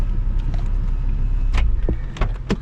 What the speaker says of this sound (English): All right, taking a ride with Chase in the Stang